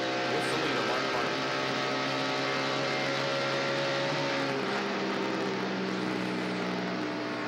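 A 1993 NASCAR stock car engine roars steadily through a lap at Atlanta Motor Speedway, a sustained loud drone with shifting pitch heard from onboard, with commentary talk over it.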